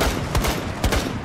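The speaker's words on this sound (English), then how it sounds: "Oh my god, I shot 3 bullets." Rapid gunfire in Rainbow Six Siege, two quick bursts of about three shots each, sharp and close, standing over a constant busy game background.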